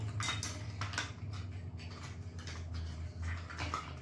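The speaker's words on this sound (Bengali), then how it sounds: "এই যে ঢাকনি, এটাকে ঢাকা হবে" Small plastic pieces of a Frozen Elsa toy kitchen playset clatter and tap together, a series of light irregular knocks and rattles close by, quiet and without speech.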